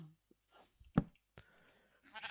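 A single sheep bleat sounds at moderate distance amid quiet Minecraft ambience, with a few soft clicks and a faint rustle before and after.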